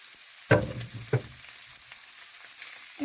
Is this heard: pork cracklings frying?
yes